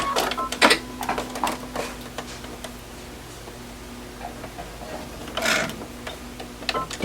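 A sewing machine stitching a courthouse step quilt block, with short bursts of rapid mechanical ticking separated by pauses as the needle is lowered by hand, close and moderately loud.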